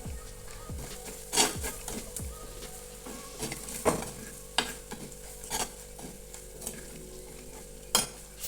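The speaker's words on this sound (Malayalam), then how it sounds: "ഇനി എല്ലാം കൂടെ നന്നായി ഒന്ന് വഴറ്റിയെടുക്കാം" Sardine curry masala with garam masala being sautéed in a pan, a steady sizzle broken by repeated scraping stir strokes and occasional louder spoon knocks, close and clear with no talking.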